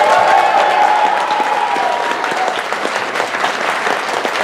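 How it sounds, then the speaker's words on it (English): A crowd applauds loudly at a Sunday closing ceremony, dense continuous clapping with a few cheers and voices mixed in, sustained throughout at close range. "Everyone, a round of applause for Line Monkey."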